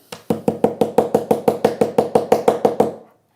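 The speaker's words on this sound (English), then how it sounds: "I'm going to put that in as far as I can, and then I'm just going to hammer it" A rubber mallet strikes steadily about sixteen times in an even rhythm, each dull, close knock on a workbench ringing briefly before the next, then stopping.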